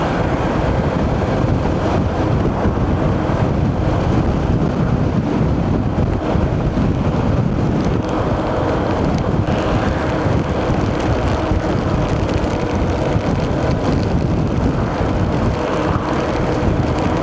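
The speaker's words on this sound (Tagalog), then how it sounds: "Malakas yung hangin." Strong monsoon wind roars constantly across the microphone during a ride along the Gapan-Olongapo Road, a loud, unbroken rushing noise with no pauses.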